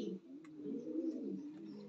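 Racing pigeon, a valuable marathon-racing hen, cooing softly and continuously at close range with a low, throaty, rolling murmur and no talking.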